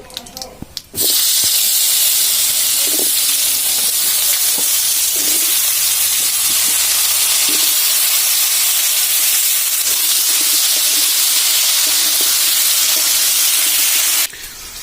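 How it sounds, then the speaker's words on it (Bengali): Vegetables fry hard in hot oil in a pan for fish curry, a loud steady hiss and sizzle that holds for most of the stretch, beginning and ending abruptly. "তো আমাদের কিন্তু ভাজা হয়ে গিয়েছে সবজিগুলো"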